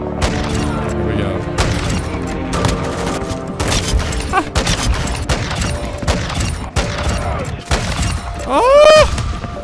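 Sniper rifle fire in a video game with a fast scope: rapid sharp cracks and booms repeat through the stretch, one after another, loud and close, ending with a rising metallic ring, with no voices.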